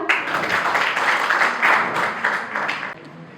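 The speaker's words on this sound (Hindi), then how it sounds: "एक बार जोरदार तालियां।" Audience applause at a teacher's training college welcome ceremony, a steady wash of many hands clapping for about three seconds before fading out, fairly loud with no talk over it.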